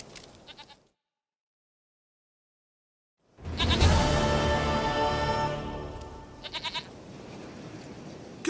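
A goat in The Witcher 3 bleats in short bursts, falls silent, then bleats again over a loud, dense wash of game ambience.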